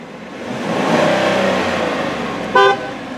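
A 2016 GMC Sierra Elevation Edition pickup engine revs up and settles at a loud steady drone, then a single short honk of its horn sounds near the end.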